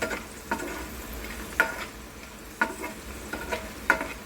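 Peanuts being stirred into sabudana khichdi frying in a pan, quiet sizzling with a few distinct spoon scrapes and clinks at irregular intervals, close up and with no talking.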